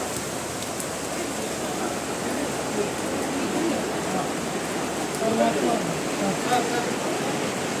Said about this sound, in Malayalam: മൊത്തം മഴയാണ്